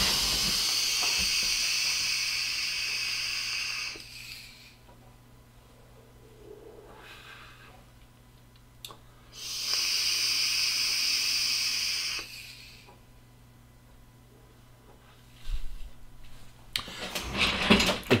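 Airy draws on an Innokin iSub sub-ohm tank with a 0.5 ohm head at 40 watts: two long, steady hissing pulls of about four seconds each, separated by quiet pauses, close and fairly loud with no talking.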